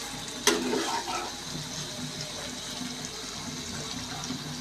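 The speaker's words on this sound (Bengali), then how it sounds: "রান্না করব, তার জন্য অল্প একটু জল দিয়ে দিব" Water is poured into a pan of small mola fish curry with raw tomato, a steady close splashing and trickling running on without a break.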